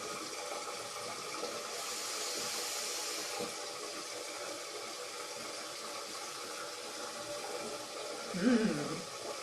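Tap water runs steadily in a home bathroom while warming up, a faint continuous hiss with no break and a brief low bump near the end.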